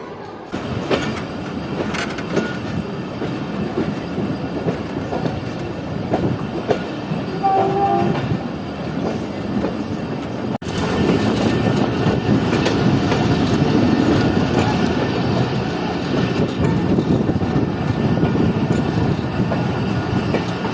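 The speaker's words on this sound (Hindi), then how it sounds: "हमारी ट्रेन निकल रही है लाड़काना जंक्शन रेलवे स्टेशन से।" A passenger train pulls out of Larkana Junction railway station in Pakistan, with steady rumbling wheels, rail clatter and a horn blast, loud and continuous, growing heavier partway through.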